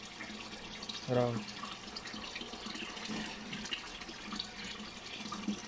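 Water running and flowing in a goldfish tank holding an oranda, a steady trickling wash throughout, with a person speaking briefly over it near the start.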